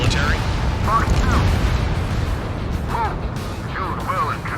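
Explosions from destroyed targets in the Ace Combat 7: Skies Unknown video game during a pipeline destruction mission, a continuous rumbling barrage of booms under excited talk.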